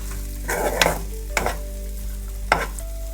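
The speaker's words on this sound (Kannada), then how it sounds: "ಇದು ಫ್ರೈ ಆಗಿರೋದೇ ಬ್ಯಾಂಬಿನೋ, ಆದರೂ ಒಂದು ಸ್ವಲ್ಪ ಬಿಸಿ ಮಾಡೋದು." Bambino vermicelli fries in a pan over a low flame, giving a steady soft sizzle broken by three quick scraping stirs against the pan.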